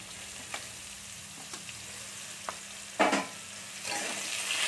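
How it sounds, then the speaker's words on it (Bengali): Ridge gourd pieces tipped into a hot frying pan for sukto with moong dal, a steady soft sizzle with a few light taps, then a louder burst of frying as the vegetables hit the oil, near and without talk. "আমি এবার ঝিঙেগুলো তুলে দিচ্ছি এর মধ্যে"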